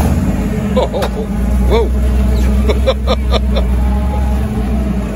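A 1963 Chevrolet Impala custom painted in a Cheech and Chong theme idles loudly at a collector car auction, its engine a steady deep rumble close by while onlookers exclaim and chatter over it.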